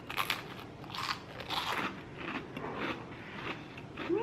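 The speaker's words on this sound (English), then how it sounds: "So you put the little cheese and a little apricot jelly on the cracker, and then you just eat it." A cracker topped with cheese and apricot jelly crunches as it is bitten, then chewed in several close, crisp crackling bursts with no talking.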